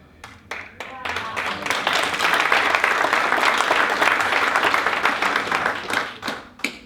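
An audience at an economic development summit bursts into broad, sustained applause that swells and holds, with a voice audible over the clapping near the start and scattered claps trailing at the end.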